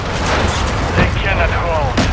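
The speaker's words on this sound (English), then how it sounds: "Hostile mortar strike in the area" Mortar strike explosions in the video game Call of Duty: Modern Warfare 3, loud dense booming blasts layered over constant battlefield noise, with a voice speaking over them.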